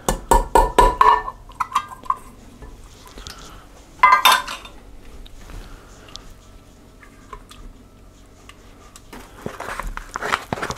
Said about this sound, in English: We're going to add those onions.